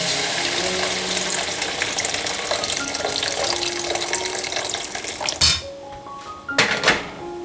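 Hot water pours steadily into a pan while fish slices in hot chilli oil are being cooked, a loud continuous rushing splash that cuts off near the end, followed by a few clinks and a short second pour.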